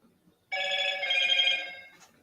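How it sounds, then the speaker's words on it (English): A telephone rings once in a steady electronic trill lasting about a second and a half, loud and close, starting after a short near-silent gap with no talk over it. "Is that my phone? No, it's mine."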